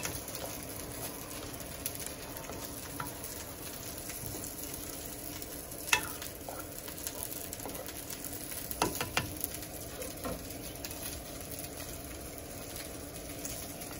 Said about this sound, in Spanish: Ya están hirviendo nuestros frijolitos